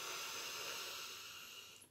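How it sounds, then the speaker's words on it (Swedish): Slow, deep breathing, drawing air in through the nose and letting it out through the mouth, heard as a steady, soft airy hiss that fades toward the end, with no talking. "drar riktigt djupa andetag in genom näsan och ut genom munnen"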